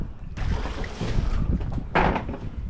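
Gusty wind buffets a kayak out on High Rock Lake on a cold, windy day, a loud rumbling rush that swells and drops, with a sharper blast near the end.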